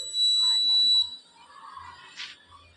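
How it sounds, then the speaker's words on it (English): A homemade fire alarm triggered by a flame detector sounds a steady high electronic tone for about a second, then stops, leaving faint background noise and a brief hiss. "then the fire alarm starts to work"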